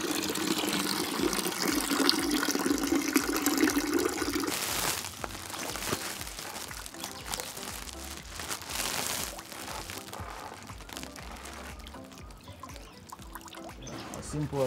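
A lifted sack of soaked hydroponic fodder seeds drains its water, giving a gushing pour that gives way to trickling and dripping, fairly quiet, with a brief clatter of handling partway through.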